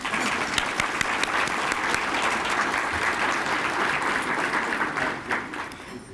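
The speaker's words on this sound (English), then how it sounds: "So we can give them a round of applause." Sustained applause from an audience at an awards luncheon, steady and dense for about five seconds before tapering off toward the end.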